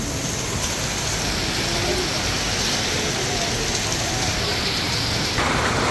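Steady rain pours down on a street in Little India, Kuala Lumpur, a dense, even hiss that fills the whole stretch with no break.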